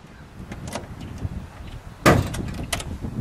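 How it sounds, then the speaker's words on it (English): Trunk lid of a 1966 Pontiac GTO with a 389 engine, in Barrier Blue, swinging open with a quick loud creak and clunk after a few faint rustles, followed by some quieter handling noises. "So as we open up our trunk and treats, with that great Pontiac creaking sound"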